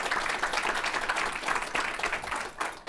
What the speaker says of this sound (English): So I think we should give them a round of applause for the way they conducted themselves.